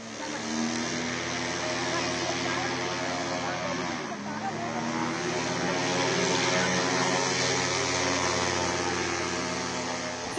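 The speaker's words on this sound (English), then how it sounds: "You can see the NSG choppers, taking an aerial round of the area around the Parliament building." NSG commando helicopters take off and circle near the Parliament building, giving a loud, continuous rotor and engine drone that holds steady throughout.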